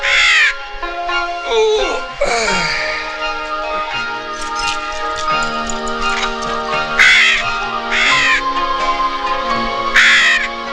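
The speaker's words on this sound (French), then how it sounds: "C'est un aigle chauve." A large raptor, a bald eagle in a western film, gives repeated loud harsh calls in rising bursts over sustained orchestral music.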